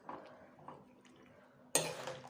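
Soft scraping and clinks of a utensil stirring bottle gourd greens in a pan, faint and close in a quiet kitchen, ending in a louder clatter against the pan.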